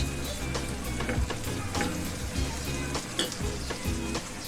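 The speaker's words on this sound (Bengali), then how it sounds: "মশলাটাকে ভালোভাবে কষিয়ে নিয়ে তারপরে দিয়ে দিব হাফ চামচ লবণ।" Spice paste for Bangladeshi-style egg korma sautés in a pan with a dense continuous sizzle and sputter, while a spoon stirs with soft scrapes and knocks, close and steady, with no voice.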